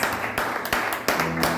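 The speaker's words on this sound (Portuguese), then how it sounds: "Você pode aplaudir o Senhor pela sua palavra?" A church congregation claps in a brief burst of applause during a Sunday worship service, a few uneven rhythmic claps, fairly close and moderately loud.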